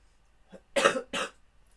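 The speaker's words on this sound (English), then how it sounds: "coughing a lot today" A single person coughs close by in a quiet room: a faint throat sound, then two harsh bursts in quick succession.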